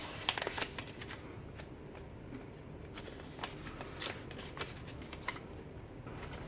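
Paper envelopes handled and opened one after another for a junk journal Advent calendar, giving soft rustling and crisp paper flicks with small repeated taps, quiet and close throughout.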